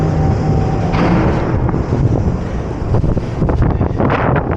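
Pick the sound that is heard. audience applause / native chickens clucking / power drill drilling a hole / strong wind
strong wind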